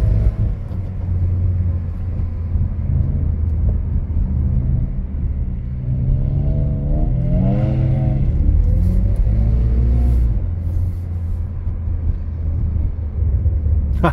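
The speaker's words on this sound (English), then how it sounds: "That dude is front wheel drive drifting." A car drifting on winter snow during a drift run, with a loud, steady engine drone and rumble whose revs rise and fall mid-run, heard from nearby inside or close to the vehicle, with no talking.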